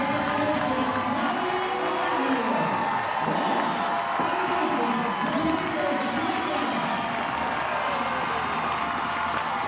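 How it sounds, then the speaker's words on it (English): Crowd in Gainesville at a Minnesota versus Florida college softball game gives a sustained standing ovation, steady loud applause and cheering filling the whole stretch with a commentator speaking over it. "definitely getting a standing ovation by the crowd here in Gainesville"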